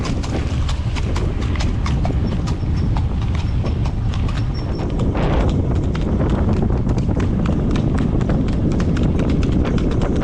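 Horse hooves clip-clop in a quick, steady run on a small farm, loud and close throughout, with wind buffeting the microphone and no talk.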